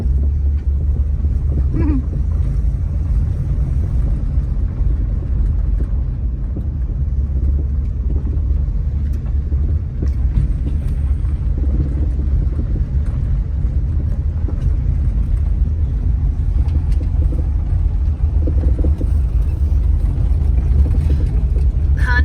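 A 1956 Chrysler New Yorker four-door driving along an old dirt road, heard from inside as a steady, loud low engine and road rumble that continues throughout with occasional faint knocks and rattles.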